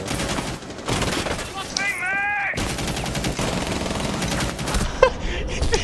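Dense, loud bursts of SMG-11 automatic gunfire in a video game fill nearly the whole stretch, breaking off only briefly, while a voice cuts in around the middle.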